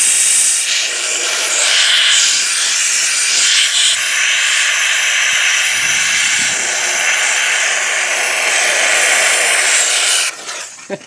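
A Wagner Spraytech steam machine hisses loudly and continuously for about ten seconds at close range, then cuts off abruptly near the end.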